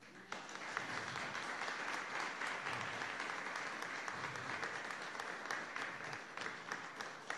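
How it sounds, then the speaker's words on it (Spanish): A religious gathering breaks into steady, sustained applause, a dense wash of many hands clapping evenly throughout, heard from within the crowd at moderate loudness. "No sé si la Virgen merece un aplauso"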